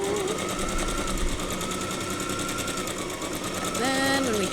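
A sewing machine stitching quilt strips, heard as a rapid, steady mechanical whir of the needle that holds for several seconds, with a short tonal change near the end.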